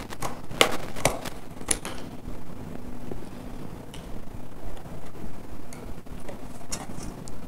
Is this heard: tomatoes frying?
no